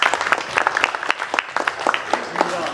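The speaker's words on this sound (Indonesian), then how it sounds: "Iya, tepuk tangan dulu." Audience applause at an evaluation event, a loose scattering of individual claps over a few seconds, moderately loud and uneven in rhythm, with some background murmur.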